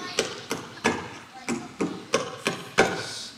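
Drum struck in a school performance, six evenly spaced sharp hits roughly every third of a second, close and moderately loud with brief decays.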